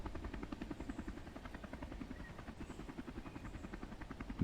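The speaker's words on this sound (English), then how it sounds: "I think the helicopter is pretty loud." Helicopter rotor chops in a racing video game pulse rapidly and evenly under a steady engine drone, continuous and moderately quiet, with no voices.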